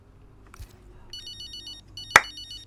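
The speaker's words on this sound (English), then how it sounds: "Wait, I was waiting on the phone call" A phone rings in the F1 25 Braking Point racing video game, a bright electronic ringtone trilling in repeated bursts over a low background hum, with a sharp click near the end.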